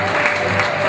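Dense, steady applause from an audience at a Miss beauty pageant evening, a continuous loud wash of clapping filling the hall with no pauses.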